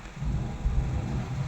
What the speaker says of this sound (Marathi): अवकाळी पाऊस पुन्हा एकदा बीड जिल्ह्यामध्ये